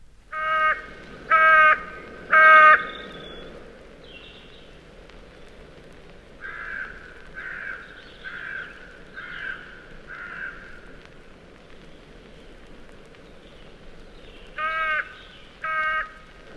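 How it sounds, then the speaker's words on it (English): A crow gives loud, harsh caws in short groups, three strong calls, then a series of softer strident notes, and two more caws near the end, with nothing else heard. "Sometimes in February and March you can hear a strident motor horn note from the crow as well."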